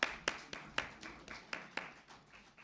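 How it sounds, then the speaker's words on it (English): Applause from an audience at a Lanka Premier League cricket player auction, heard as a run of about ten distinct claps at a steady rhythm that gradually fade, with no talking. "Can we at least applaud for"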